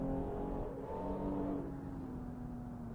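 A Maserati Levante SUV engine accelerates in the Assetto Corsa driving simulator on the Nordschleife, a steady, rising engine drone with a falling pitch shift partway through, moderately loud and without talk.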